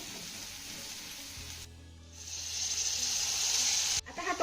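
Chopped tomato and onion sautéing in a pan give a steady bright sizzle and hiss, dipping briefly mid-way, then swelling louder as the frying continues up close.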